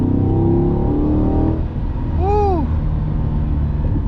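A 2021 Chevrolet Corvette C8 accelerates hard in Z mode, its engine note rising continuously, then a quick upshift and a sweeping rev climbing again, heard from inside the car.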